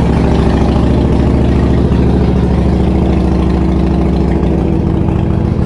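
A machine's engine runs steadily just after starting, a loud, close, continuous idle with an even throbbing rhythm and no voices.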